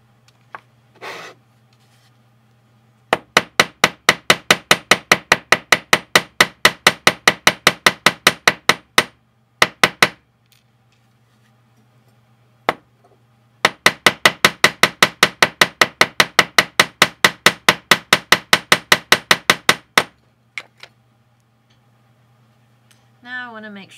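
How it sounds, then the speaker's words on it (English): Rapid, even hammer taps strike a bent wire curve for cold-connection chain links in two long runs, with a few scattered single blows between them. The sound is close and crisp, with no talking. "And then I'm going to hammer the curve here."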